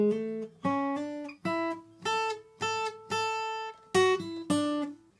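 Electric guitar plays a blues-rock lead phrase, a run of about eight sustained, clearly picked notes with hammer-ons and bends, close and steady with no talking.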